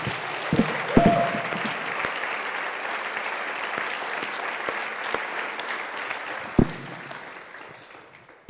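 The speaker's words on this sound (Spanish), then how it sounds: "Si va a aplaudir, aplauda a rabiar." Congregation applauding at a church workshop, sustained crowd clapping that swells early, stays steady with occasional louder claps and knocks, then fades toward the end.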